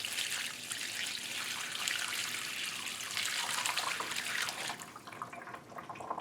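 Water is poured onto a pre-sloped shower floor and soaks into the bed, making a steady soft trickle and splash. It stays close and even for about five seconds, then thins out toward the end. No speech.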